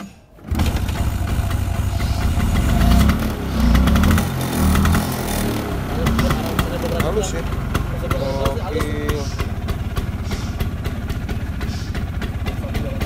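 Vintage Vespa scooter engine idles steadily, a close, continuous two-stroke putter that runs for the whole stretch while people talk over it.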